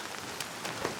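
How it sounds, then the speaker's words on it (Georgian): Rain falls steadily in Ozurgeti, a soft, even hiss of drops on surfaces with a few slightly louder patters, close and moderately quiet over about a second. "წვიმს."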